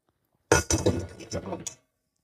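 A spoon clinks against the pot as egg-rich Bajan eggnog mixture is stirred. Several sharp metallic taps come in a quick, uneven run, close and fairly loud, before stopping into silence.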